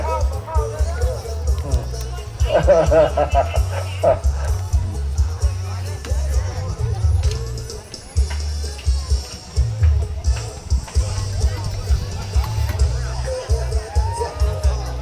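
A crowd at a fishing pond event in Udon Thani cheers and shouts, boisterous hoots and babble rising and falling over a low rumbling background, with nearby voices talking throughout.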